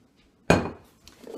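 Okra is spread onto a metal sheet pan with a single sharp metallic clatter that rings out and fades, followed by faint scraping, close and alone without talk.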